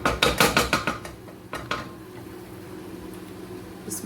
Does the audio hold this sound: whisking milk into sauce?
yes